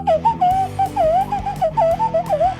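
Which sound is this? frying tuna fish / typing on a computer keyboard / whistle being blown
whistle being blown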